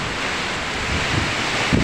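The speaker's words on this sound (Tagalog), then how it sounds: "ang kusog ka yung hangin ka dyan" Strong typhoon wind roars steadily into the microphone, a dense rushing noise with gusty buffeting swelling toward the end.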